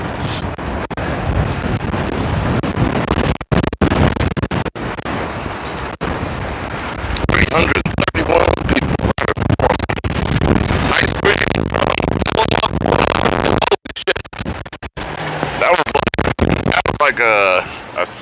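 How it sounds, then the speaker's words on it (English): A strong 60 mph wind gust roars across the microphone outdoors at night in Las Vegas, a loud, steady rushing buffet that swells and drops out briefly before surging again. "A 60-mile-an-hour gust right there."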